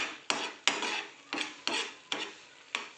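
Semolina sheera stirred in ghee over a medium flame: a spoon scrapes the pan in about seven regular, close strokes, each a sharp grainy swish fading before the next.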